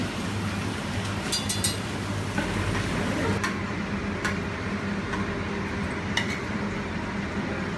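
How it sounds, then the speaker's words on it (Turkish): Steady sizzling of falafel (chickpea patties) frying in oil fills the background, with occasional clinks of utensils against a pan, moderately quiet and continuous. "Nohut köftemizi çift taraflı kızartma işlemine devam ediyoruz."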